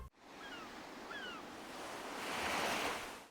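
Soft ocean surf rolling steadily as ambient sound inside a dimly lit room in Animal Crossing, swelling gently toward the end with a couple of faint bird-like chirps early on; no talking.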